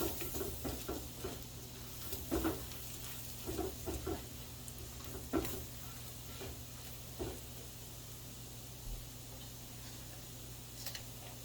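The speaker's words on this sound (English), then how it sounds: "Give that a nice stir." A utensil stirs flour into a pan of shrimp cooking in a creamy Tuscan sauce, making soft scraping ticks in irregular bursts over a faint sizzle and low steady hum, close but quiet.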